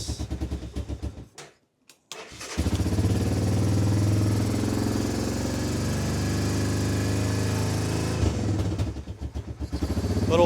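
Honda Fourtrax 300 ATV engine, freshly resealed, sputtering through a few cranking attempts with brief gaps, then catching and running at a steady loud putter before revving unevenly near the end, with no voices.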